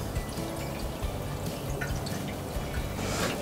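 Unleaded petrol poured into the fuel tank of a Cobra S40C scarifier, a steady trickling and dripping pour heard close and continuous, with a slightly brighter gush near the end.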